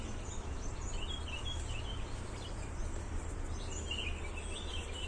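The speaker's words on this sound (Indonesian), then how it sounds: "yang dimana terdengar banyak suara burung" Many wild birds calling in an outdoor spot, a busy chorus of high chirps and tweets scattered over a constant low hum of background noise, fairly faint and distant.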